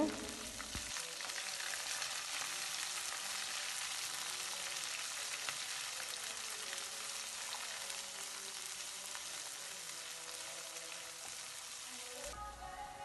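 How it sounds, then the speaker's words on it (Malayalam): Steady crackling sizzle of green chillies frying in a pan, stirred now and then, continuous and close for the whole stretch with no voices. "12 പച്ചമുളക് കീറിയത് ഇട്ട് കൊടുത്ത് എല്ലാം ഒന്ന് ഇളക്കി കൊടുക്കാം. എല്ലാം ഒന്ന് മൂത്ത് വരണേ."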